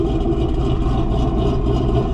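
A cammed, lowered Ford Mustang S650 on a PVP Ghost Cam tune and E85 fuel idles with a steady, close, loud low rumble that runs throughout with no pauses.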